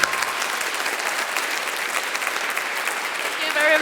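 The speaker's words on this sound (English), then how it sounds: "give every one of us a warm round of applause" Applause from a high school graduation audience, dense and steady throughout, growing slightly louder at the very end.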